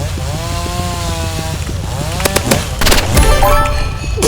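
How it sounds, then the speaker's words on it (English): Chainsaw weapon in Roblox Rivals, an engine buzz rising and falling in pitch as it revs repeatedly, loud and close, followed by sharp impact noises toward the end. "just using chainsaw."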